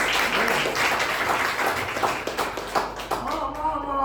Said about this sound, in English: Give the Lord a big clap of praise.